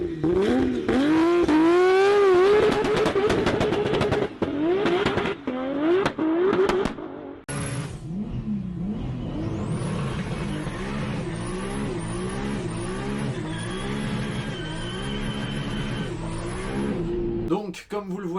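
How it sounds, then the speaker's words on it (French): A VR6 engine fitted in a Nissan S14 revs hard in repeated rising pulls, loud and close, with a brief gap and then a long series of climbing revs and whistling turbo-like tones; voices are faintly present. "quelques petits extraits de ce moteur en état de fonctionnement"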